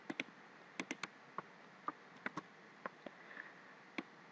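Computer keyboard keys being pressed for a Ctrl+D shortcut while working in CorelDRAW X7, heard as a string of sharp, quiet clicks at an uneven pace over faint room hiss.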